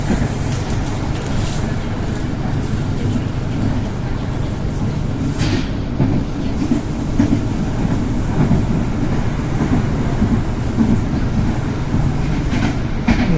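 Steady low rumble and rhythmic rail clatter from a China-built commuter train travelling between stations on the line toward Bogor, heard continuously from inside a carriage with no talk.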